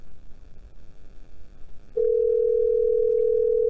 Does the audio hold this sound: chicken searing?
no